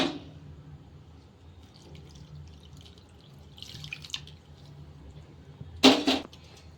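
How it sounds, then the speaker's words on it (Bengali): Water pours into oats chilla batter mixed with curd: a short, close splash near the end after quiet background rustling. "আমি দুধ দেবো না আমি জল দেবো"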